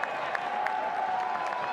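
Huge college lacrosse crowd at Syracuse versus Notre Dame in a stadium, applauding in a steady distant wash of clapping and cheers for under two seconds.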